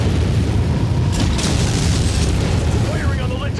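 Missile volley explosions in the MechWarrior video game, loud rumbling booms and bursts that merge into a continuous heavy roar, with a voice talking over them.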